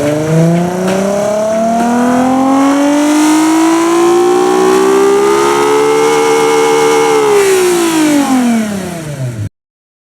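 A simulated 3.0L V6 engine revving loudly and steadily, its tone climbing smoothly over several seconds before dropping away and cutting off abruptly, with no distinct pops or bangs standing out.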